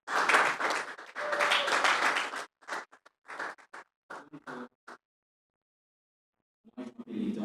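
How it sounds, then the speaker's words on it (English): Audience applause at a Franco-Anglophone school exchange event, loud clapping for the first few seconds, then dwindling to scattered claps before falling silent, with a brief stir of noise at the end. "So please let us clap for Newton."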